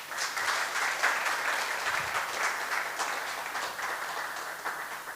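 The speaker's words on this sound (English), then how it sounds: "So please, big round of applause to her." An audience applauds at the grand opening of a Hindu temple and community centre, a dense, steady round of clapping from many hands, moderately loud and continuous without talk.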